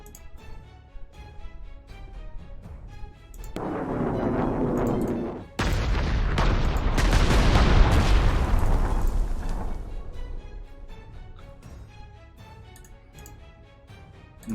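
Artillery fire in the World War II strategy game Panzer Corps 2 near Leningrad: a rising rumble, then a loud booming barrage that swells and fades over several seconds, framed by a steady ticking in the game.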